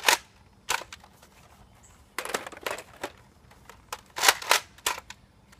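A Nerf Quick 16 dart blaster fires repeatedly, with sharp, snappy pops in an irregular series, some in quick pairs and clusters, close and dry over a quiet background.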